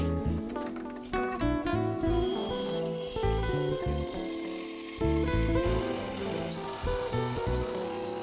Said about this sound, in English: An offcut of the hardboard serves as a batten guide to prevent the router cutter going into the benchtop.